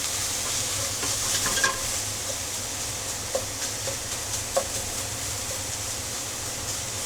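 Lean ground bison browning in a pan gives a steady, fairly quiet sizzle and hiss, broken by a few soft scrapes and taps of a spatula stirring the meat.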